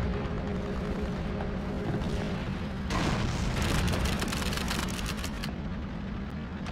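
A heavy booming tank shell explosion erupts over a constant low rumble in Call of Duty 3 on PS2, followed by a crackling spray of debris and gunfire-like rattles that fade out.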